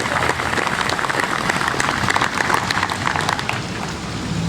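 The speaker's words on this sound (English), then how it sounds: "Let's give a round of applause for our Councilman Dennis Dunn." Crowd applause for a councilman at an outdoor 9/11 memorial anniversary in Levittown, a dense, continuous wash of clapping held at an even level throughout.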